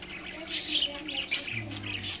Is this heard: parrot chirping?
yes